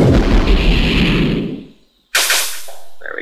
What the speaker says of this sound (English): And let me throw a bomb their way.